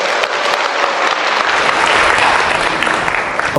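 A lecture-hall audience at a Korean real estate investment class gives loud, sustained applause, a dense wall of many hands clapping steadily with no break.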